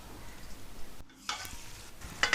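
Spices frying for a masala fish curry sizzle softly in a pan, briefly muffled mid-way as a lid goes on, then return with bright crackling and a few sharp pops near the end.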